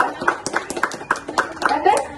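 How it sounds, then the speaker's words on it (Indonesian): Children and adults in a classroom audience clap their hands together in a lively, uneven burst of overlapping claps, with voices chattering underneath throughout. "Oke, kita kasih tepuk tangan yuk buat Ayu ya yang sudah mau bercerita."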